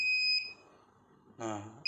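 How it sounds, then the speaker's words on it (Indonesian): An electronic buzzer on a microcontroller distance-sensor project gives a steady high-pitched electronic tone, cuts out, then sounds again at the end, with a brief burst of speech in the gap. "Maka si buzzernya akan menyala."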